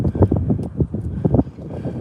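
Heavy wind buffets the microphone outdoors in low, rumbling gusts, loud and close, with no other clear sounds.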